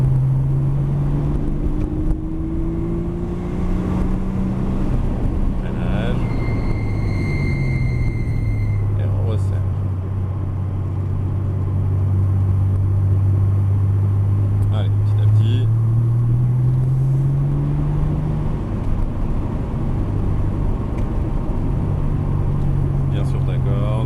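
A Porsche on a track session accelerating and lifting through corners, its engine note rising and falling in long sweeps over a steady rumble, with an instructor's voice speaking throughout.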